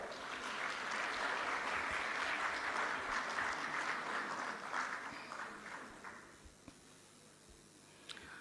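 An audience at a dividend presentation ceremony before President Samia claps in a broad, even burst that holds for several seconds, then thins and fades to near quiet with a few scattered claps.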